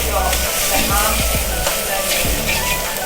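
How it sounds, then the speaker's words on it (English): Nasi goreng rice fries hard in a hot wok, a steady loud sizzle with bursts of scraping as it is stirred and flipped along the pan, a faint voice briefly underneath. "And this is now serious frying."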